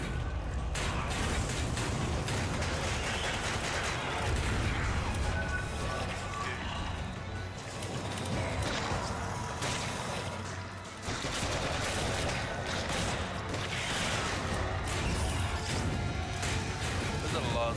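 Rapid bursts of gunfire in Resident Evil 5, dense and continuous for the whole stretch with crashes mixed in, while players talk over the action.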